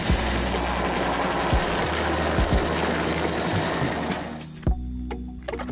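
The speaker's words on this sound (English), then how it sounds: "Wow, helicopter." A toy helicopter whirring with a steady buzzing rotor drone, close and fairly loud, cutting off abruptly near the end, followed by a few faint clicks; no talking.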